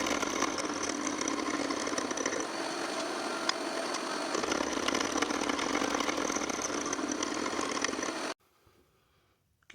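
A machine cuts splines into a Land Cruiser output shaft during a Lomax 205 transfer case install, giving a steady, loud grinding mechanical whir that runs unbroken for about eight seconds and then stops abruptly, leaving near silence.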